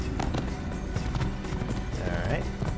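Rhythmic clip-clop of a horse galloping in Assassin's Creed, steady hoofbeats under game ambience and music, with a brief whinny-like tone near the end.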